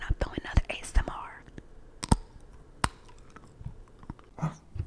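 Close, crisp crunching and biting on freeze-dried candy and thin milk chocolate, with sharp irregular crunches early, a few isolated bites later, and soft whispering between them.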